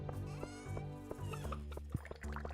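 Chickens cluck softly in a farming scene of a video game, a few quiet, short repeated calls at low level.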